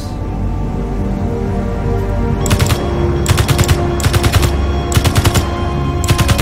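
Bursts of rapid automatic gunfire aimed at a turret on top of a base in Space Engineers, arriving in several short volleys over a steady low background hum.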